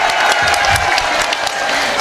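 An audience claps and cheers at a religious sermon by a female Islamic preacher. The applause is dense and steady, with a murmur of crowd voices underneath.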